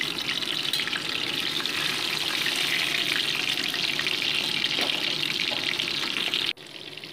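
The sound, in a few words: fish heads frying in mustard oil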